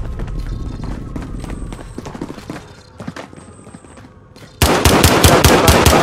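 Rapid automatic gunfire in Call of Duty: Modern Warfare, loud bursts crackling densely in the final stretch after quieter game ambience and scattered shots, with brief radio-style tones earlier and faint chatter beneath.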